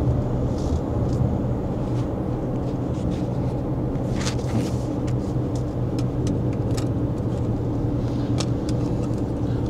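Jaecoo J7 PHEV plug-in hybrid SUV driving and making a U-turn on a Malaysian road, a steady low road and cabin rumble throughout with faint high whines, fairly quiet and even, no talk.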